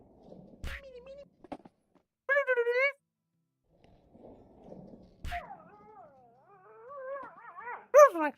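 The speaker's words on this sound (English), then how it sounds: "maybe I should feed that mean dog over there." Mean dog in the Financial Freedom video game, giving a few short whimpers and then rising, wavering howls that end in a sharp yelp, fairly close and loud with quiet gaps between.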